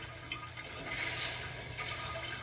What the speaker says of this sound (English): Tank is filling up.